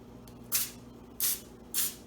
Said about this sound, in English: spray just a little bit of any spray vegetable oil into the bottom of each of the cups